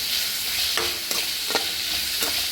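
Vegetables fry in a pan with a steady broadband sizzle, broken by four scraping strokes of a spoon stirring through them at about half-second intervals, close and alone.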